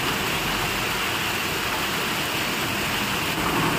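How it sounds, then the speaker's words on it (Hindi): Heavy rain falls steadily on a roof at night at an engineering institute hostel, a dense, loud, unbroken hiss and patter with no pauses. "अभी यहाँ पे ना बहुत तेज बारिश हो रही है"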